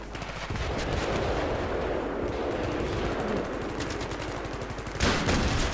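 Steady rapid gunfire in Battlefield 3, with dense overlapping automatic shots that keep going throughout and a louder burst near the end.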